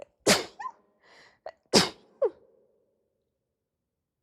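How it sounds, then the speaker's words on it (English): Two sharp, explosive sneezes close to the mic, each with a breathy intake beforehand, followed by quiet sniffles and a short word. "Here comes a sneeze."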